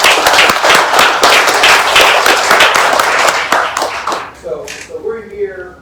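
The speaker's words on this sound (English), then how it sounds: "let's give them a round of applause" An audience at a storytelling finals event claps loudly in a dense burst of applause that fades after about four seconds, followed by a voice speaking.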